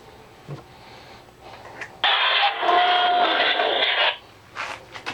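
A sound-equipped katana hilt with a 23 mm heavy-base Railmaster speaker plays its custom boot-up sound: a loud, bright two-second electronic burst after faint handling noises, then quiet clicks.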